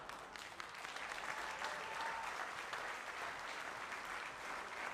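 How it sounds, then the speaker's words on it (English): Steady applause from a crowd at an athletics hall of fame induction ceremony, dense clapping that holds at an even level throughout without letting up. "A big round of applause for the 1980-81 girls basketball team"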